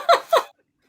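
Two quick, sharp sneezes in close succession, each a short bright burst, followed by silence.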